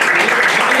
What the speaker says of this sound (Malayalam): എല്ലാവരും ഒന്ന് കൈയടിച്ചൂടെ?